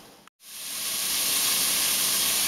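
Garlic and aromatics sweat in a pot with a dense, even hiss that cuts out briefly near the start and then swells back, growing steadily louder and fuller.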